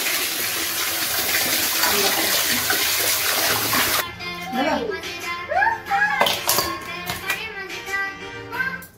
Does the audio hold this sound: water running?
yes